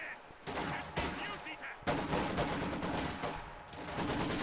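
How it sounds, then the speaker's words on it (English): Machine guns firing from buildings in a video game battle, with rapid bursts of gunfire that come and go in clusters, fairly close and loud, with brief gaps between volleys. "So they have machine guns in both these buildings right here."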